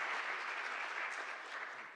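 An audience claps steadily at a community kitchen-table gathering, a soft, dense patter of many hands that holds even and fades slightly at the end, heard from a distance without any voices.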